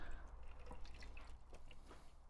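A Don Rael Margarita strained from a shaker over ice with no strainer, the liquid trickling and dripping faintly into the glass in a soft, continuous patter.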